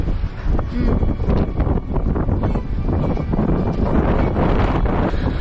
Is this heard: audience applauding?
no